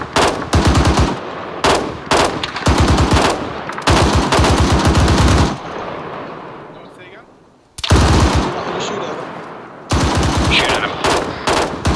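Heavy machine gun fire from the military shooter Arma 3 rips out in loud, sustained bursts, pausing for a few seconds in the middle before more long bursts resume.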